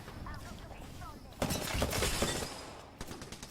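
Close-range gunfire in the game Apex Legends, a rapid cluster of sharp shots and impacts bursting in after a quieter opening, followed by a few scattered cracks.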